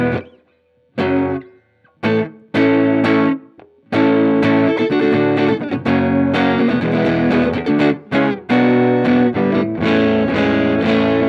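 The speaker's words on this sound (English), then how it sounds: "Now let's look at the distortion setting they have." A heavily distorted electric guitar through a Benson germanium fuzz pedal on its distortion setting plays fuzzy chords and riffs, starting with short stabs and pauses, then sustaining thick, buzzing tones loudly.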